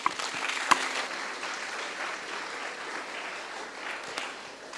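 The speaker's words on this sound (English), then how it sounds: "Round of applause." Steady applause from an audience at a school author event, moderate and sustained throughout with a few sharper claps standing out, heard from within the room.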